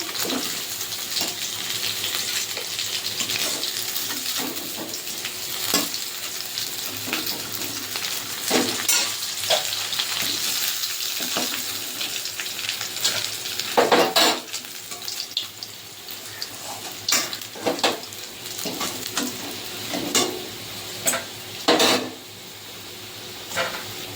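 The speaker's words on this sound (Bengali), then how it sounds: "উল্টে পাল্টে হালকা ব্রাউন করে ভেজে নেবো" Steady loud sizzling of amudi fish frying in hot oil, with occasional crackles and spatters and a few clinks of utensils, no talking.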